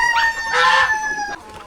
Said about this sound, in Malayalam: പൂവന്മാരെ അവിടെ അഴിച്ചിട്ടിപ്പോ ഭയങ്കര സന്തോഷമായി